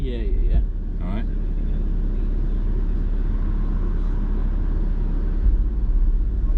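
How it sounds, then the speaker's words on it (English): A 33 Hz test tone from a tone generator plays through car subwoofers in a newly finished quad-box enclosure tuned near 30 Hz, a deep, loud, unbroken low drone with brief voices near the start. "when you go onto this tone generator, obviously I can set the frequency 33 Hertz"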